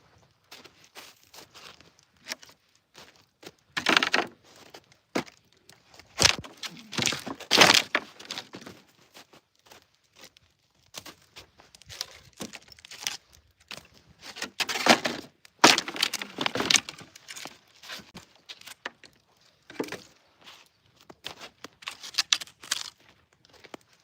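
A wood fire being stoked in a creek-side cabin: scattered cracks, snaps and crumpling rustles come in irregular bursts, loudest around a few clustered moments, with quiet gaps between and no talking.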